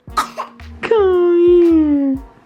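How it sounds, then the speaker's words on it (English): A small child gives a few short, breathy fake coughs, then draws out a long, voiced, whining note, close and loud, with faint rhythmic thumps beneath. "She's fake coughing."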